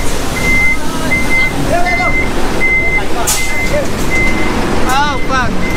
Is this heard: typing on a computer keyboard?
no